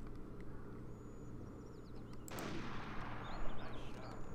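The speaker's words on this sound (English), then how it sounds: "I'm just gonna shoot that one." A single rifle shot in the hunting video game Hunting Unlimited 2001, a sharp crack at mid-clip over steady outdoor ambience with faint bird calls, followed by a brief rolling echo.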